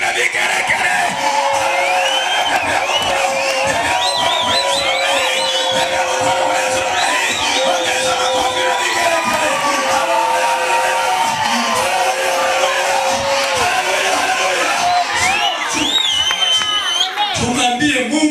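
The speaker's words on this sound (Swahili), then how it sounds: "Pigia Yesu makofi na vigeregere." A church congregation claps and ululates during a service, filling the space with loud, continuous crowd noise, wavering high trills and shouts, and voices mixed throughout.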